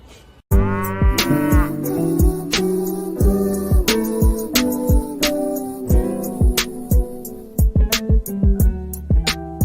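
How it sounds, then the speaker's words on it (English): Drawn-out cow moos over a thumping music beat, loud and close, the bellowing calls repeating in rhythm with sharp percussive hits throughout. "Bitch, I'm a cow. I go moo."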